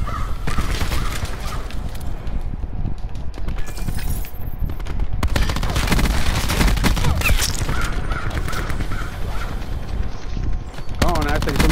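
Gunfire fills a Call of Duty Black Ops 4 match, with rapid bursts and repeated shots over dense game noise. A player talks over the action throughout.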